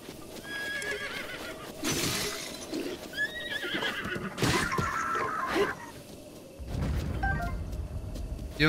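A horse neighs and whinnies in Zelda: Breath of the Wild, with hoof clip-clops and thumps mixed in, several calls over about nine seconds, loud and close, followed by a low rumbling stretch near the end.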